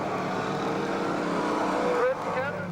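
Stock cars roar around a racetrack during a race, a loud continuous engine drone with a pitch sweep as one car passes close, heard under an announcer's commentary.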